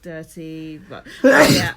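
A single sharp, close sneeze bursts out after a stretch of casual talk, loud and noisy against the quieter voices before it.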